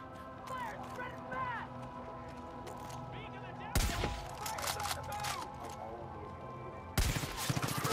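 Gunfire aimed at a sniper in the Far Cry 5 shooter game, two sharp loud shots several seconds apart over busy game ambience and voices.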